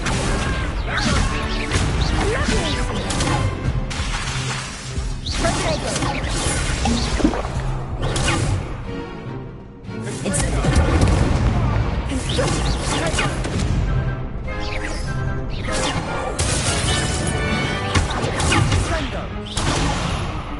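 Hogwarts Legacy on PS5: casting Incendio and Accio makes constant whooshes, crashes and impact thuds in dense, busy combat, with a player's voice calling out over the effects.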